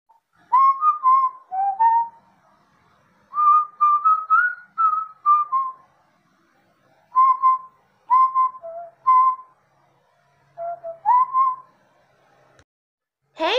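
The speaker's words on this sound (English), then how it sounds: "I'm whistling, and it's fun." A person whistles a simple tune in short phrases of clear, bright notes, separated by pauses of silence, close and alone with no talking.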